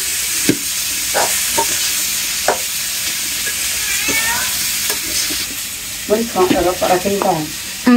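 Vegetables sizzle in hot oil over softened fried onions for a Bengali puti fish curry, with a steady frying hiss, scattered clinks of a stirring spoon, and busier clattering stirs near the end.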